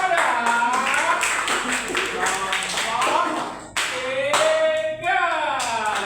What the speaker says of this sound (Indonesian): kita beri tepuk tangan yang meriah kepada